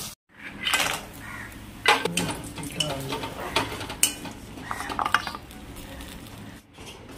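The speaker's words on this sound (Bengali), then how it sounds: "সব মাছগুলো দিয়ে দিলাম, এবার মাছগুলো ভাজা হবে" Pieces of foli fish fry in a pan with a bright crackling sizzle, mixed with repeated scraping and clinking of a spatula against the metal.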